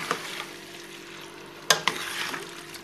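Tuna stirred into a fettuccine Alfredo sauce in a pan, a soft sizzle under two sharp utensil clinks against the pan near the end.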